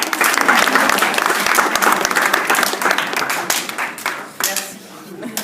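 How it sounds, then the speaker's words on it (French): Audience applause at a literary queer show of LGBTQI texts, a dense, sustained clapping from a crowd that thins toward the end, with scattered louder claps. "Vous pouvez les applaudir, ça les mettra à la tête."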